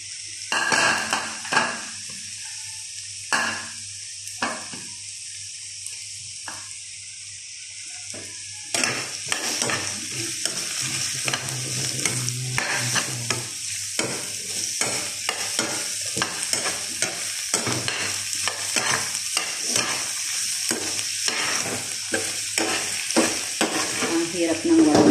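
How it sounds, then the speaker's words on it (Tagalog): Onion and garlic frying with partly cooked potatoes in a pan, a steady sizzle with frequent loud stirring scrapes and clanks of a utensil against metal, busier in the second half. "Lagyan na natin ang sibuyas at bawang."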